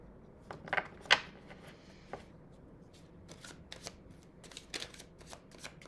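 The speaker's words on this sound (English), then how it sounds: "And as I'm shuffling" Soft, close shuffling of tarot cards with light flicks and taps spread across a few quiet seconds, no voices.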